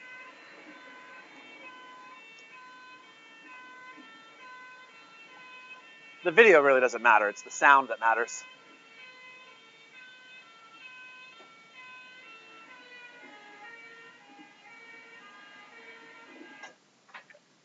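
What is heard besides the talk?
fire engine siren passing, Doppler effect, from YouTube clip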